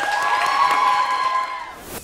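A stage audience at a dance competition claps for the third country's team, a short burst of applause and cheering under ringing music tones, fading out after about two seconds.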